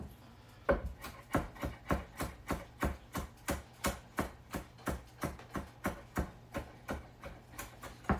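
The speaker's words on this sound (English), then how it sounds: "we're just going to just chop it up roughly" A knife roughly chopping fresh sage on a board, a steady run of about twenty evenly spaced, crisp thuds, close and fairly quiet, with no talking.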